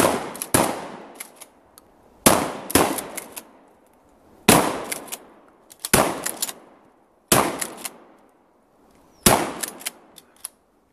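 A 12 gauge shotgun is fired outdoors, six loud, sharp blasts spaced roughly two seconds apart, each followed by a short echoing decay, with no voices between shots.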